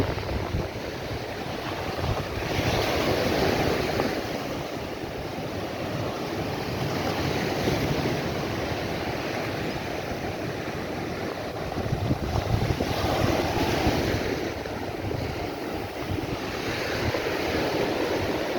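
Steady roar of sea waves on the shore at Bathsheba, Barbados, mixed with gusty wind buffeting the microphone, continuous and fairly loud, surf swelling in a few places.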